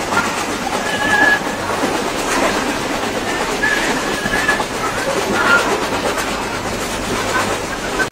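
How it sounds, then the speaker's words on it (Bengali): The Sundarban Express, a passenger train out of Dhaka, rolls through near Chuadanga station. A continuous close rumble of rolling stock carries faint high wheel squeals that come and go over the whole stretch. "আর এটি হচ্ছে সুন্দরবন এক্সপ্রেস, যেটি ছেড়ে এসেছে ঢাকা থেকে"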